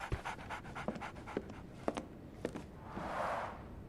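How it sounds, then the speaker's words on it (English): A dog pants in the 2023 Sherlock Holmes: The Awakened video game, with quick, rhythmic breaths close by and a few soft faint steps, and no talking. "So, Barnes has a dog now."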